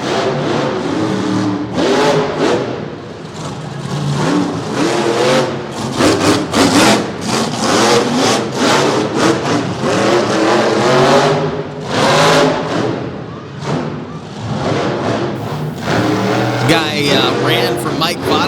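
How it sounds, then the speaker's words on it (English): Monster truck engines rev hard inside the Wicomico Civic Center arena, repeated loud surging bursts of roaring exhaust echoing around the hall, with an announcer talking over them. "a different header setup, and it completely changes the sound as they echo their way around the Wacomico Civic Center"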